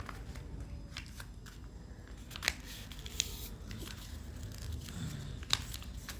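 Sheets of paper are folded and creased for a paper snake craft, making soft crinkles and a few sharper snaps against a steady low background hum, close to the listener.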